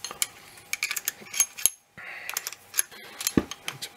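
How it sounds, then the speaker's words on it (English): A wrench tightens a Tinsley telescope equatorial mount, making quick close metallic clicks and ratcheting taps in irregular bursts, with a short silent gap midway. "Now you put a wrench back here and tighten this thing down."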